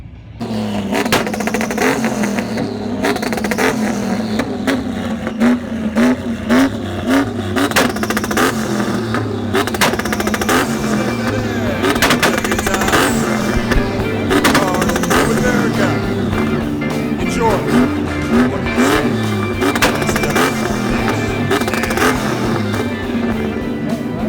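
Ford Mustang muscle car engines at an outdoor car show in Pennsylvania, loud overlapping idling and repeated revs rising and falling continuously, close by and without pause.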